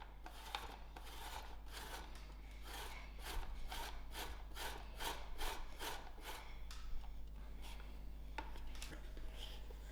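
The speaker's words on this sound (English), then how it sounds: "So now I am going to grate my bananas." Green bananas rubbed against the coarse side of a hand grater, making a steady run of rasping, scraping strokes in even rhythm, close and clear over a low background hum.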